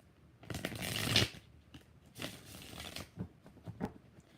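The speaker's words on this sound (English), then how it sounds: "5 shuffles for Shimmy." Tarot cards are shuffled by hand in bursts of riffling and sliding, a loud sustained shuffle early on, then a second run and several shorter soft flicks, close and with no talking.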